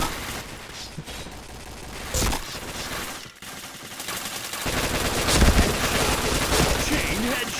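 Gunfire in a video game called Katana, with bursts of rapid shots and sharp impacts of varying intensity, loud and continuous, broken by a brief lull, with a voice talking faintly underneath.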